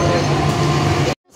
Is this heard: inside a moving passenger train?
yes